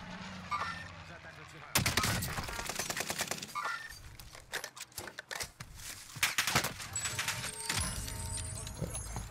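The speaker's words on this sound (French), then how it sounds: "Sur la hauteur, ça me tire dessus." Gunfire in an online shooter game, dense bursts of rapid automatic shots and single cracks from about two seconds on, loud and close, with players talking over the action.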